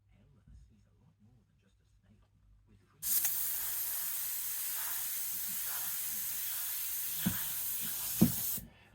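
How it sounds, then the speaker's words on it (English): A steady, airy hiss of an airbrush spraying Fastrax Fast Finish paint runs for about six seconds after a quiet start, then cuts off abruptly. "the first thing we've done there is just a quick sample spray"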